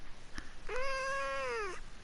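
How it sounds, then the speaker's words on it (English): A cat gives a single clear, drawn-out meow of about one second, close and distinct in a quiet room, with no talking. "Daggermon, I heard you, cat"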